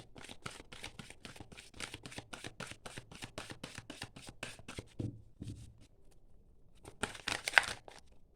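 Tarot cards are handled and drawn, giving rapid, steady papery flicks and riffles that pause briefly, then return in a denser rustling burst, close and fairly quiet.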